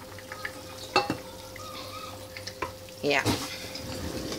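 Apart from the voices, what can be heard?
potatoes added to pan for beef semur, cooking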